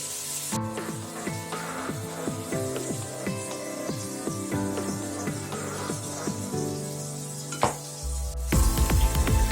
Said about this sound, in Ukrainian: Підсмажуємо цибулю, щоб перекласти нею печінку.